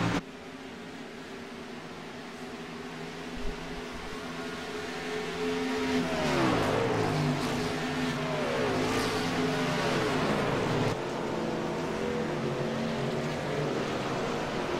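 Race cars on a circuit during a race, engines roaring loudly and steadily, with a rising surge of revving cars passing close around the middle before a sustained high-speed drone continues to the end.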